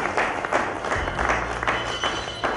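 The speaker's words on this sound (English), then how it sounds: "a round of applause, ladies and gentlemen, for these great people" Scattered applause from the crowd at a university alumni day gathering, uneven and moderately close, with voices and a low hum mixed in.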